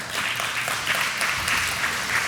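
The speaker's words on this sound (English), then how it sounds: "you can clap for that" Steady applause from a church audience during a talk, a dense continuous patter of many hands clapping at moderate loudness with no voices over it.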